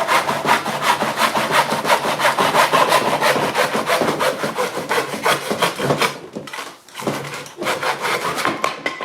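A hand saw cuts a wooden board for a birdhouse in steady, loud back-and-forth strokes up close, pausing briefly near the end before resuming.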